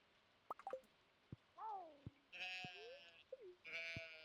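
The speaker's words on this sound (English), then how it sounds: "The ostrich makes a very funny noise." Short, comical bleating honks from an ostrich on a Stardew Valley farm sound several times in quick succession, each call rising and bending, fairly faint and alone.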